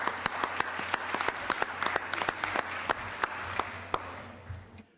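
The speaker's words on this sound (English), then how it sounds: "The late Hannibal, yes, that deserves a round of applause" Applause in a state Senate chamber during a floor session, a dense steady wash of many hands clapping with sharp individual claps standing out, fairly close, fading toward the end.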